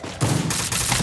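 Heavy gunfire in a battle royale video game, dense overlapping bursts of rapid shots close and loud for about a second, with no talk.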